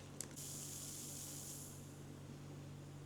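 A soft, steady fizzing hiss from powdered cola drink bubbling in water, quiet and close, fading slightly after a brief sharper burst at the start.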